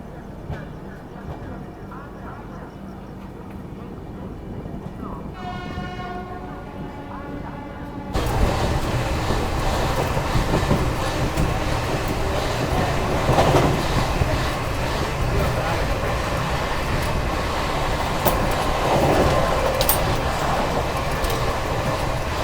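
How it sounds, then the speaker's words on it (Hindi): A Vande Bharat express train on the Varanasi route rushes past, its loud roar and clatter of wheels arriving suddenly after a quieter stretch and holding steady, with a voice heard near the start. "भाई साहब, India fastest train Varanasi Vande Bharat."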